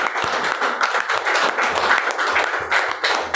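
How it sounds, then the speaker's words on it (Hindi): Loud, dense applause and clapping from a hall full of people at a leaders' training meeting in Samastipur, cheering the bonanza winners. It is close and continuous, with irregular claps and some crowd noise mixed in. "जिन साथियों ने बिग और बिग अचीवमेंट बोनांजा के रूप में जीता है, मैं चाहूंगा कि उनके लिए एक जोरदार तालियां होनी चाहिए"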